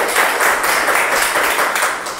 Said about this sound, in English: So please give both the speaker as well as the evaluator a good round of applause.